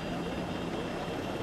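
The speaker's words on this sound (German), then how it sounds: "hört sich das nur so an oder hat der Hubschrauber so ein Alarmsignal die ganze Zeit?" A helicopter in the video game Ghost Recon Breakpoint gives off a steady, loud, broadband rotor and engine drone that holds evenly throughout without any clear breaks.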